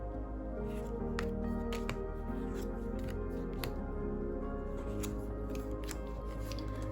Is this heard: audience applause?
no